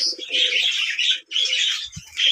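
Pigeons cooing loudly inside their coop as they press for food, several birds overlapping in rolling bursts close by, with a soft wing flutter or thump near the end.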